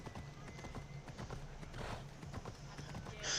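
Rhythmic clip-clop of horse hooves in the video game Assassin's Creed Odyssey, a steady trotting beat at low volume, with a brief whinny-like burst near the end.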